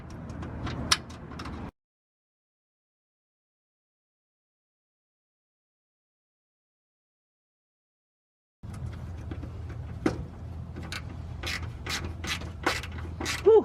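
Bolt being threaded into a MillerCAT V1 catalytic converter shield under a Toyota RAV4 Prime, with quick ratcheting clicks and mechanical turning sounds heard near and close before a silent gap and again afterward.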